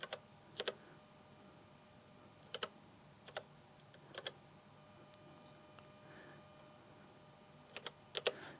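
Numbers get punched into the number pad of a PTZ joystick camera controller, quiet isolated clicks in small clusters separated by pauses.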